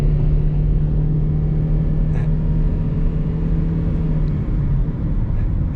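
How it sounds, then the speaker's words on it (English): A 2008 Toyota Prius Grand Touring hybrid at full throttle, heard from inside the cabin: a steady, strained engine drone with road rumble, holding loud and unbroken with no talk. "like this is flooring it"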